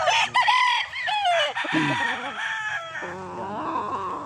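Gamefowl chickens on a game farm cluck and a rooster crows loudly up close, with agitated squawks and overlapping fowl calls.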